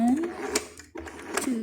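Home sewing machine running its tenth stitch pattern: a close mechanical whirring with a rapid needle rhythm and a brief pause midway, while someone talks over it.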